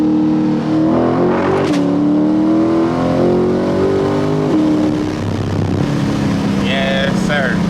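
An LS-swapped Corvette's engine revs hard and accelerates, a loud, close growl rising and falling in pitch throughout, with people talking over it.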